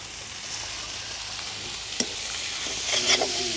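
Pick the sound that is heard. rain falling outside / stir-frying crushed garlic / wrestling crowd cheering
stir-frying crushed garlic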